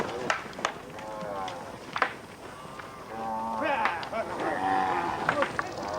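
Stocked cattle low and moo in a warm, humid setting, several drawn-out calls from a herd at moderate distance over a noisy background.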